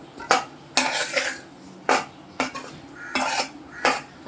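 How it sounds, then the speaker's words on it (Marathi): Amla cooking down in melted jaggery in a pot, stirred with a spoon that clatters and scrapes against the metal in five or six distinct bursts, close and fairly loud, with no voices. "तर आता ही मी ढवळण्याची प्रोसेस करणार"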